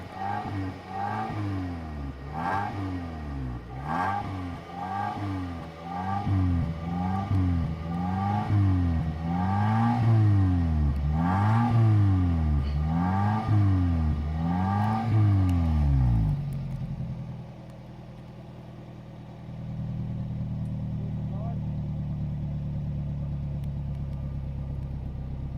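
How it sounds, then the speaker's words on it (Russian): Car engine treated with Lavr ML-203 decarbonizer, revving in a steady rising-and-falling cycle after a hard start, then dropping to a low, even idle rumble. "Итак, мотор у нас с горем пополам завелся."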